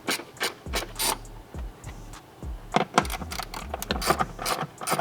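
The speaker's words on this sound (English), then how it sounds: "you can remove these 2 10 millimeter nuts inside the wheel well" A hand ratchet works loose 10 millimeter nuts inside the wheel well of a Porsche 992 911, quick bursts of clicking and metallic taps and clinks close by, in short uneven runs, with no talk.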